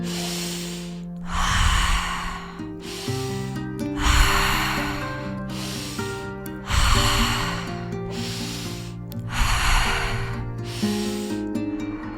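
Slow rhythmic breathing in a circular pattern, roughly five long breath cycles, each a rushing inhale or exhale swelling and fading, close and clear over a soft droning musical background.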